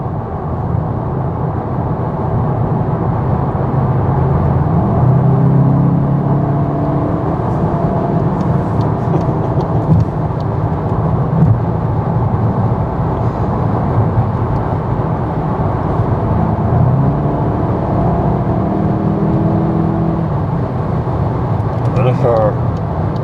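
A 2024 Volkswagen Golf GTI driving in the rain, with a steady low engine drone and road noise throughout and someone talking over it.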